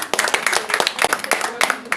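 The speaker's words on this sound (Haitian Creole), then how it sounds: "On applaudit Hélène." Children's show audience clapping for Hélène, a child about to recite a poem on stage, with a dense patter of hand claps rising and falling over two seconds and faint voices mixed in.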